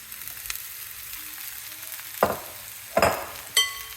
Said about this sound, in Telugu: మనం నానబెట్టుకున్న పోహాని మిక్స్ చేయండి